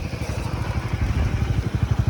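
A motorbike engine runs steadily with a rapid low pulsing throb on a ride to Nigamkhola hill in Bongaigaon, close and fairly loud, with no talk over it.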